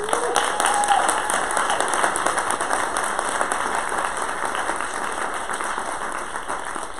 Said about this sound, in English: I definitely want to give a big round of applause for Dr. Gary Berthoff